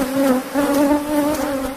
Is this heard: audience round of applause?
no